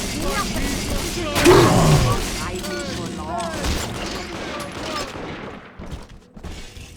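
Gunfire bursts out in a volley during a firefight in BioShock 2, with a loud blast early on and then rattling shots. Shouting voices and game noise sit underneath.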